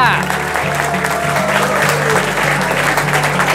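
An audience at a quiz show event claps for a winner, with dense steady applause throughout and a voice talking over it, alongside background music.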